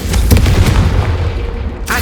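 A Confringo blast spell fires in Hogwarts Legacy, a loud, sustained booming burst with rumbling low-end energy that carries through the whole moment and ends with a sharp crackle.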